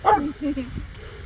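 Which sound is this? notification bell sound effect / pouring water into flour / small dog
small dog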